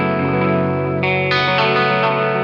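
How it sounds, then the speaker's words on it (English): Eastwood Black Box mag delay guitar pedal set to a tape-like echo with modulation, a sustained electric guitar chord ringing loud and close with repeats smearing and stacking as new strums enter, no talk. "we're going to go to the mag delay, which is going to be maybe like a echo rec type of delay"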